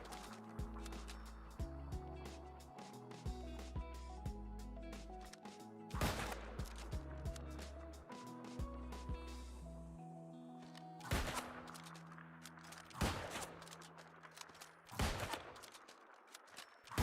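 Regular headshots fired without power or consumables in the online game New World crack out as separate sharp reports, spaced a couple of seconds apart, over steady tonal background music.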